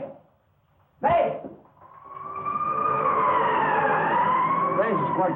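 A 1930s police squad car siren wails, swelling in after a sharp burst and holding a loud rising-and-falling tone close by.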